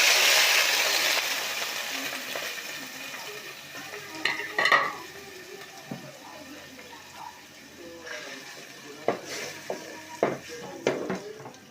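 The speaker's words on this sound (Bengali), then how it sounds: "কিছুক্ষণ আমি কষে নিলাম।" Lightly browned onions sauté with spices in a pan, a soft continuous sizzle broken by scraping stirs and several sharp clinks of a utensil against the pan.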